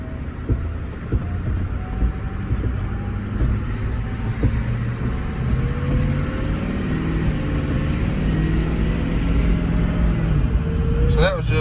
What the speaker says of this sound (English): I'll let y'all hear the exhaust off of the trees.